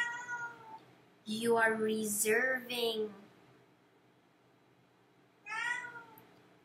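A pet cat meows up close in two bouts, the first long and wavering and the second short, while a person talks in between.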